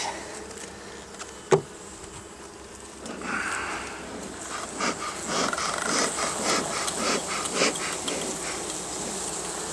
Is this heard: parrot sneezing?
no